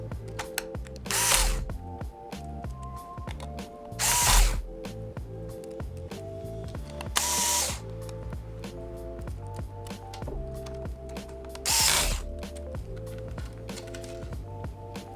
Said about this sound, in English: put the 4 screws back in to hold the LCD into place